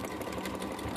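Sewing machine stitching a large tote bag: a brief, steady, even whir of needle motion, close and continuous for about a second.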